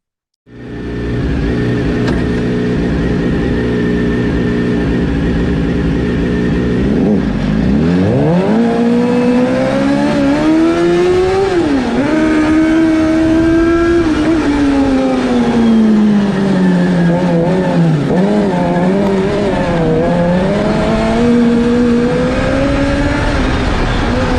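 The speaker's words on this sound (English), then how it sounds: "A 2-litre turbo diesel family hatchback in the Ford Focus and a wacky bike engine kart in the field." A kart's small high-revving motorcycle engine screams loudly and continuously, pitch dropping and climbing again and again as it brakes and accelerates.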